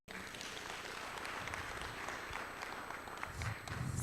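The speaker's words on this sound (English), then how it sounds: "the best we can do is to say thank you by giving him a big round of applause" Steady applause from an audience at an immigration and business law talk, a continuous patter of many hands starting abruptly and holding at an even, fairly distant level.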